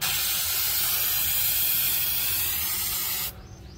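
Steady loud hiss of foam cleaner sprayed onto a 2020 Cadillac Escalade during detailing, continuous and close, cutting off abruptly near the end.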